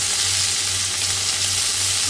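Chicken sizzles steadily and loudly in a wide cast iron skillet over high heat, a dense continuous frying hiss with a low hum beneath.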